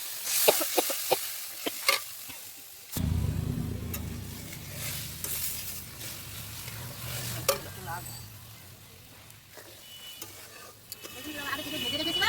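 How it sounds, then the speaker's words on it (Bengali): Water is poured into frying spice masala with chili powder and poppy-seed and white mustard paste in a pan, and it bursts into a loud, hissing sizzle that settles into a steady bubbling fry under close stirring clatter. "এখন জলটা দিয়ে দেবো।"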